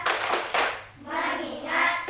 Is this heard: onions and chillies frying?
no